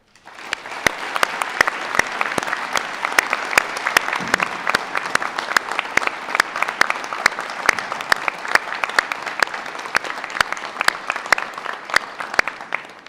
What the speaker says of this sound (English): Now please give a round of applause